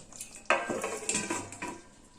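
Metal lid set onto a cooking pot of bean pathuri (sheem pathuri) in a home kitchen, a sharp clank followed by a few lighter metallic clinks and rattles, close and clear with no talking.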